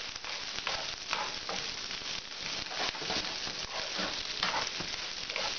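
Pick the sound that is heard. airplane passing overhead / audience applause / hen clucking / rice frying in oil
rice frying in oil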